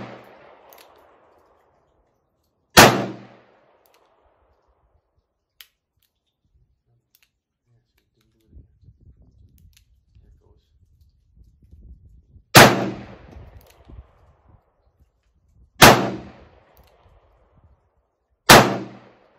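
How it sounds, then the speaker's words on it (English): Four loud, sharp shots from a Charter Arms Bulldog .44 Special revolver fired at a target about ten yards away outdoors, spaced seconds apart, with quiet handling noise between them. "I'm shooting, got a target out there about 10 yards"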